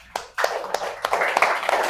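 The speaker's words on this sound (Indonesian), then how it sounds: "Beri tepuk tangannya." Classroom clapping from students, a handful of distinct claps that grow into a brief ragged round, close and moderately loud.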